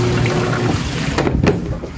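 A broken automatic washing machine spins hard with water inside, giving a loud, steady churning and sloshing rush close by with a few brief splashy surges and no voices.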